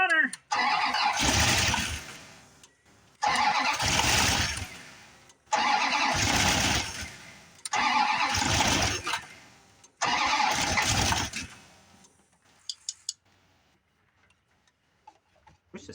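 A 1989 Dodge Ramcharger with a blown 318 V8 runs in five loud, roughly one-second roaring bursts separated by short pauses, then falls quiet apart from a few faint ticks.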